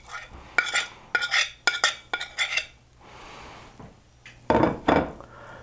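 Cornstarch-coated tofu pieces pried apart on a plate give a series of short scraping, clinking taps in quick bursts, close and fairly quiet, with a pause before two stronger scrapes near the end.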